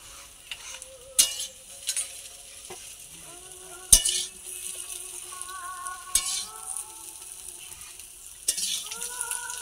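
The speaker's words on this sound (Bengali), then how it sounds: "এই যে দেখুন ভাজা করলাম, হ্যাঁ, কাঁচকলা, আলু, মাছের বীজ দিয়ে ভাজা।" Green banana, potato and fish roe fry in oil with a soft, continuous sizzle, punctuated by several sharp clinks and scrapes of a utensil against the pan.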